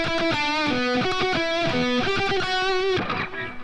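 A distorted electric guitar plays a quick harmony line from a solo, short fast repeated notes stepping between pitches, with a bend and gritty sustain, loud and close.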